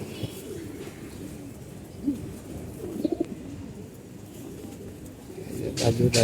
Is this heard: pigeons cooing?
yes